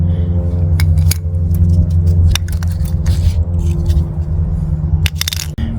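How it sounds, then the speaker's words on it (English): Front brake pads being pulled from a Suzuki Burgman K7 scooter make a few sharp metallic clicks and clinks over a steady low hum. No one speaks. "And then we remove the brake pads."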